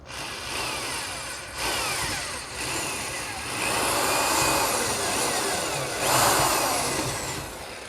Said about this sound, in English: let's go drill ourselves a hole. The first thing to do is to drill a pilot hole